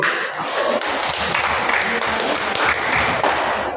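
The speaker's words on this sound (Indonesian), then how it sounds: "berikan tepuk tangannya buat diri kita sendiri" Students in a classroom clap for themselves after a group discussion, a short burst of dense, fairly close applause that carries steadily for a few seconds.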